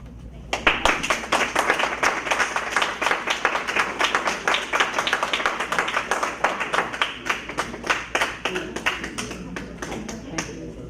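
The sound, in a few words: audience applause at a school board meeting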